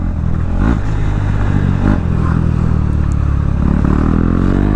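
A modified KTM Duke 390 motorcycle engine runs loud and close with a steady low rumble, recorded from the rider's position with no voices.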